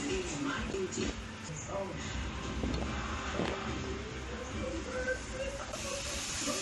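Seasoned ingredients for a coconut chickpea curry sauté in a pan, giving a continuous broad hiss like steam. A voice is present beneath the sizzle, with a few soft knocks from the pan.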